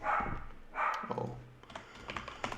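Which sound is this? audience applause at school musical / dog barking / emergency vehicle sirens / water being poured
dog barking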